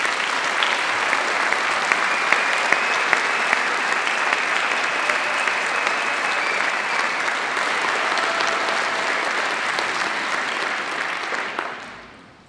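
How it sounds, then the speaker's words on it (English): A large audience at a Birmingham City University graduation ceremony gives the conservatoire musicians a long, steady round of applause, dense and even for about twelve seconds before fading out. "please join me in giving them a well-deserved round of applause"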